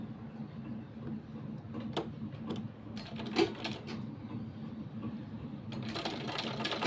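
A sewing machine stitches a child's kurta, running as a quiet, steady mechanical hum with faint clicks and taps through the stitching, no voices.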